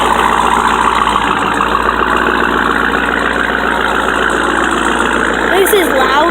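A Jeep Trailhawk at a car show runs with a loud, steady engine drone that holds at constant volume throughout, close to the listener.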